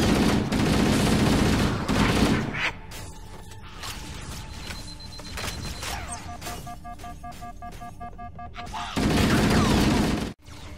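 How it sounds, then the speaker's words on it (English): Rapid bursts of mounted gunfire from a Warthog in the Halo video game, loud dense volleys at the start and end with quieter mechanical tones and game effects in between. "Fire from the Warthog's gun and aim with motion tracking."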